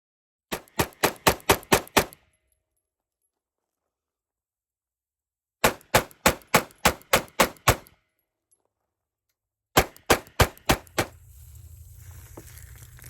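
Rapid strings of 9mm EDC pistol shots fired in three quick bursts of about five to seven rounds each, sharp and close, separated by silent pauses, with faint rustling after the last volley.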